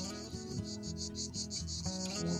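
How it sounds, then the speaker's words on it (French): A steady pulsing chorus of cicadas buzzes in rhythmic waves, with a low musical hum running underneath. "On entend les cigales"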